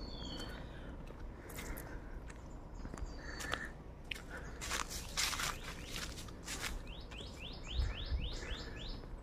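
Birds chirp and tweet faintly in the distance on Mt. Zion Pilgrim Mountain in Bugallon, Pangasinan, Philippines, a series of quick repeated calls over quiet outdoor ambience with some light rustling.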